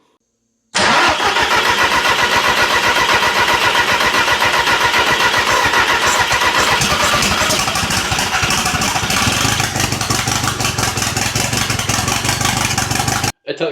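A Toyota MR2 engine cranks and fires on its first start, then runs roughly and unevenly on fewer than four cylinders with a loud, lumpy, misfiring idle close by, no talking.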